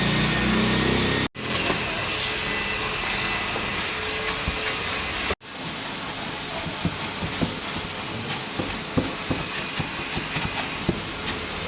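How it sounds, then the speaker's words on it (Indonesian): Shop vacuum running steadily on the dirty carpet of a Toyota Avanza during a car detailing job, a continuous loud hissing whine with two brief cutoffs and small bumping clicks as the nozzle moves. "kita vakum ya."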